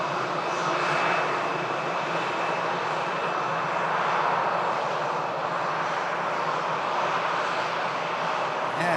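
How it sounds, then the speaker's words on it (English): Emirates Airbus A380 at Manchester Airport, a steady, broad jet-engine roar that holds at an even, moderate level throughout with no talking. "So Emirates Airbus A380 about to begin its taxi imminently"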